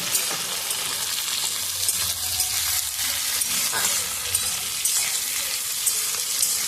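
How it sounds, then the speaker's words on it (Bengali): Continuous sizzling of chopped tomatoes frying in a pan, with soft scraping and stirring noises throughout. "এবার টমেটোগুলো নাড়াচাড়া করব"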